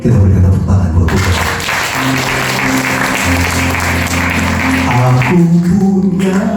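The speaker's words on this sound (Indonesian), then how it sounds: "Kita berikan tepuk tangan buat Tuhan." A church congregation claps in praise to God during a worship service, loud, steady applause that carries on for several seconds over sustained music.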